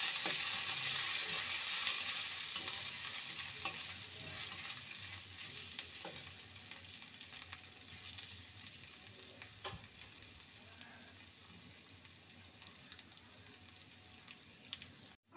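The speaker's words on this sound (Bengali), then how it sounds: "আদাটাকে ভালো করে ভেজে নেব।" Ginger paste frying in a pan while being stirred, a close sizzle that is loudest at first and slowly fades. Scattered scraping clicks from the spoon come through the whole time, with no talking.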